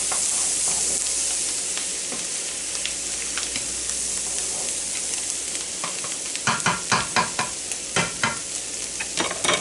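Creamy chicken vegetable pasta being stirred in a pan, a steady sizzle and hiss under scraping spoon strokes that turn into a run of distinct rhythmic stirs near the end.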